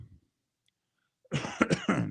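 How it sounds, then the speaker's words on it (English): A short burst of coughing, close and fairly quiet, with a tiny sound before it and near-silence in between. "sorry for the cough. Got a little tickle."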